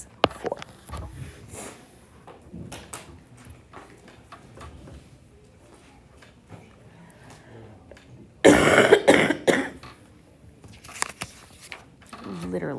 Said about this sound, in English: Literally sound like I'm coughing up a lung.